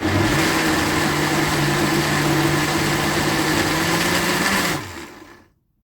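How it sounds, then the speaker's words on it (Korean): A kitchen blender grinds rice with radish seasoning for kimchi, a loud steady motor whir that runs evenly for several seconds and then cuts off and winds down into silence. "갈아줍니다. 부드럽게 갈아주세요."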